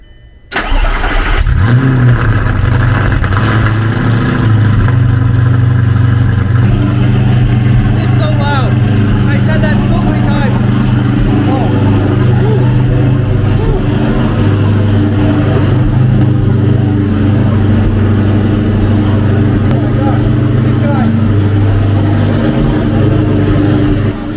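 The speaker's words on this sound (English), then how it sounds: "we are going to get a cold start on the straight piped R8" A straight-piped Audi R8 fires up from a cold start with a loud, sharp catch, then settles into a high, booming idle that drones on steadily for over twenty seconds, close and dominant throughout.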